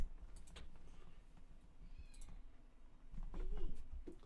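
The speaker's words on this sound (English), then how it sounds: "He heard the cat shouting and he's gone." A house cat meows faintly a few times indoors, short high calls over a low background hum and clatter.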